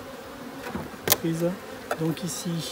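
Honey bees buzz around an opened hive as a queenless colony is being split, a close, wavering drone while someone speaks briefly in French.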